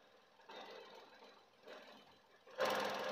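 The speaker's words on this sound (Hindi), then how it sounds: "आप बाहर से भी इसका साउंड देख सकते हैं कि इंजन में कितना नॉइज़ रह गया" Petrol engine of a 2023 Tata Punch idling with the bonnet open, heard from outside the car: a faint, steady low hum that swells in a few soft surges and ends louder.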